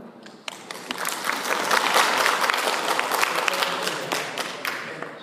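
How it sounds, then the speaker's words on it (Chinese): Audience applause at a PHP conference talk, clapping rising quickly to a steady patter of many hands, then thinning out, close and without speech. "让我们掌声欢迎"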